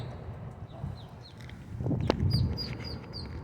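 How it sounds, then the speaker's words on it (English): Baby ducklings stuck in a drain give thin, repeated high peeps, faint and slightly echoing, with a sharp knock partway through and low background rumble. "we have a bunch of little baby ducks stuck in this drain"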